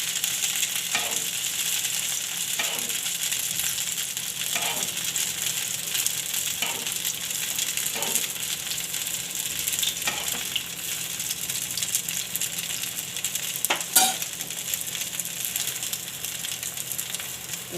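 Poha and potatoes fry in oil in a pan, giving a steady close sizzle broken every couple of seconds by soft scraping stirs, with no talking.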